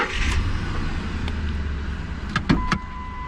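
A Ford 5.4 engine with a misfire idles steadily at close range, a low rumble with a faint unevenness, while a few light clicks and taps sound near the end.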